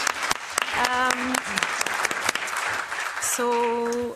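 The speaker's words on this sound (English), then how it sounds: "Maybe one more applause for our speakers." A conference audience applauds panel speakers at a policy event, sustained clapping filling the room while a voice speaks over it in short bursts.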